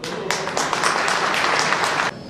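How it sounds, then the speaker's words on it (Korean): Audience claps warmly at a hometown cultural festival as a county governor is welcomed to give a speech. The applause is steady, moderately loud and close, then cuts off near the end. "다시 한번 큰 함성과 뜨거운 박수를 부탁드립니다."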